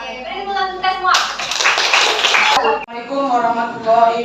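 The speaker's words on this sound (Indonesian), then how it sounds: "beri tepuk tangan semua" A group claps together for about a second and a half in a dense burst of applause during a school academic supervision session, framed by voices talking before and after.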